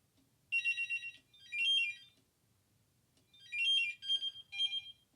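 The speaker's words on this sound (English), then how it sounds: "So that's how a beeper basically sounds" Electronic pager beeps in quick bursts, high and shrill, sounding in two clusters separated by a short pause, fairly close with nothing else around them.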